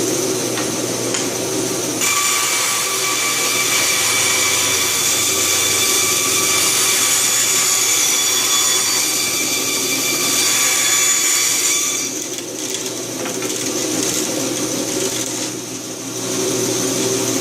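Rockwell Delta model 14 band saw cutting aluminum, a loud, steady machine whine and grinding hum that continues throughout without a break.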